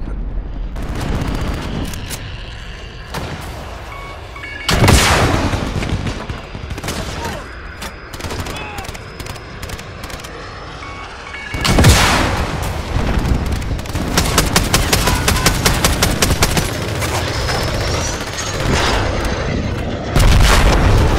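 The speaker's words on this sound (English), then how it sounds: "Enemy cruise missile incoming." Video game battle with heavy explosions from an incoming cruise missile and bursts of gunfire, loud booms hitting at intervals over a continuous rattle of shots and rumbling, busy and dense throughout.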